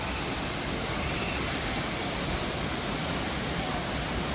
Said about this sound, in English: But now we come to the waterfall.